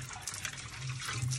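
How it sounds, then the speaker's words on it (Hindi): A tap runs steadily with water splashing while an Indian home fridge is cleaned, a continuous hiss with no voices. "चलिए अब बंद करिए ऊपर से पानी को"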